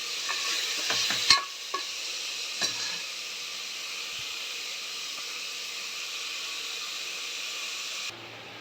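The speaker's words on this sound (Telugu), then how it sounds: "కొంచెం ఆయిల్లోనే వాటితో కూడా ఫ్రై చేసుకోవాలి." Vegetables frying in oil in a pan give a bright, continuous sizzle with a few stirring clanks early on, close and steady until the hiss cuts off abruptly near the end.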